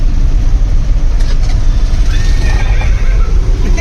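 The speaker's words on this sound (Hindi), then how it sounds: "अच्छा आवाज़ घोड़े की तरह कर रहा है।" A motorized horse-drawn-style buggy on a busy Mumbai street plays a recorded horse neigh, a whinnying call over constant loud traffic and engine rumble, with no talking.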